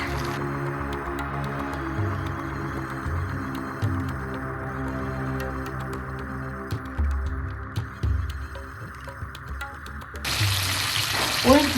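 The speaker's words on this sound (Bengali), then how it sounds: "আমি এখন ওই যে ভেজে রাখা উইংসগুলো দিয়ে দিচ্ছি এটাকে ডাবল ফ্রাই করার জন্য।" Pre-fried chicken wings going back into hot oil for a second fry, Korean style, a continuous close bubbling sizzle with steady crackle and a louder burst of hissing near the end.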